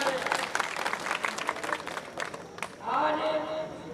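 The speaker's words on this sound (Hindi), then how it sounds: "ताली बजाने का काम करें" Crowd applause at the unveiling of an Ahilyabai Holkar statue in Mahua, steady clapping over the first half and fading into murmuring voices and a tonal sound near the end.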